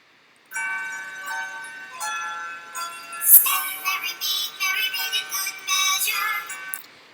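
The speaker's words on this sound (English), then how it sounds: "want you to hear the difference on a compressor versus no compressor on your track" Hip hop vocal chop played through a compressor in GarageBand, bright chopped vocal fragments with ringing, bell-like tones, starting after a brief silence and continuing in uneven bursts with a sharp accent midway.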